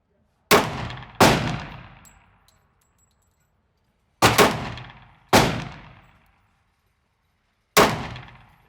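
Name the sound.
Smith & Wesson M&P 10mm pistol shots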